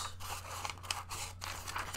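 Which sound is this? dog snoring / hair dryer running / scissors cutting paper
scissors cutting paper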